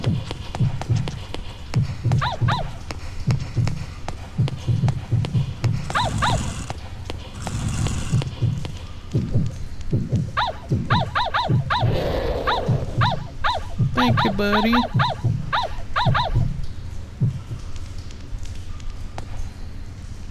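A dog in the video game Yomawari: Midnight Shadows, with repeated quick rhythmic footfall-like taps and soft bark-like bursts running throughout. A person speaks briefly over it.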